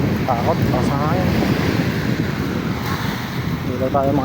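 Strong wind buffets a small boat at sea at night, a loud, steady roar over the microphone with water wash beneath, and people talk briefly at the start and end.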